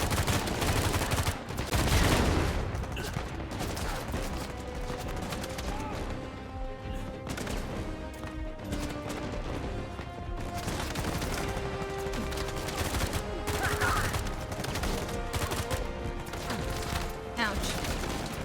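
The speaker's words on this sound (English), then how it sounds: "Where the hell are they shooting from?" Video game gunfire from Uncharted, with repeated shots and bursts ringing through a dense, busy mix of music and effects that runs for the whole stretch, loud and close.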